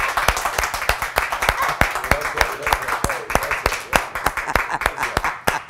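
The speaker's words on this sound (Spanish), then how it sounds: "aplauso, qué bárbaro." Studio audience applause on a Mexican talk show welcoming actor Jesús Ochoa, with dense, steady clapping running throughout at close range and no talk over it.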